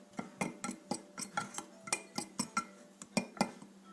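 A utensil stirs salt, pepper and cayenne into a mix in a bowl, a steady run of crisp, evenly spaced taps and clinks, close and fairly quiet.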